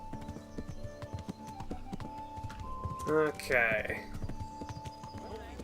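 Horse hooves clip-clop at a steady walking rhythm in the medieval video game Kingdom Come: Deliverance, a shod horse carrying its rider, with a whinny in the middle, background music, and someone briefly speaking.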